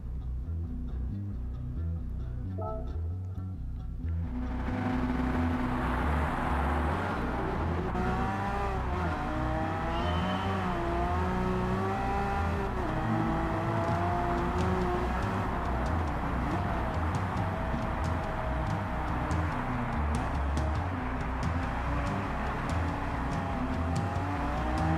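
A race car engine in Gran Turismo 7 is driven on snow, its tone climbing and shifting as it revs hard in a continuous, loud drone with no talk.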